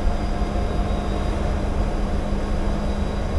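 An EMD GMU30-class diesel locomotive engine idles nearby with a steady, dense low rumble and a constant exhaust roar, no voices over it.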